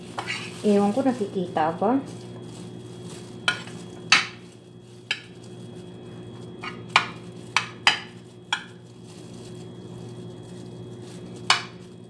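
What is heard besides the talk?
stirring macaroni into béchamel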